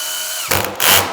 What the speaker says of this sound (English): I want to set my drill so it ratchets